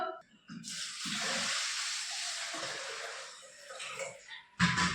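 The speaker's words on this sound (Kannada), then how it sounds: "ಒಂದು ಸ್ವಲ್ಪ ಜಾಸ್ತಿ ನೀರು ಹಾಕಿಬಿಟ್ಟು" Water pours steadily into a pot for several seconds, a rushing hiss close by, with a few short voice sounds around it.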